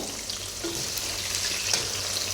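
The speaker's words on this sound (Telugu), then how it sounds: "మనం ఫస్ట్ క్యారెట్ బంగాళదుంపలను అయితే ఫ్రై చేసేసుకోవాలి" Carrots and potatoes fry in a pan for Arabic maqluba rice, giving a steady, dense sizzle throughout with a light stir, close and even with no voices.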